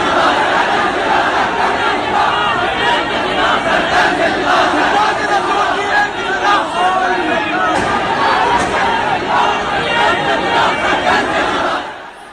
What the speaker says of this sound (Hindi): सैकड़ों लोग उस इमारत के बाहर जमा हो गए जहां अशोक कुमार जान बचाने के लिए छुप गया था